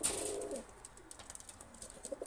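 Pakistani high-flyer pigeons give soft, faint coos and small chirpy notes after a brief louder burst at the start, with no talking.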